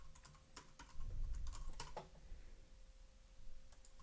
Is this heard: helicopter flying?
no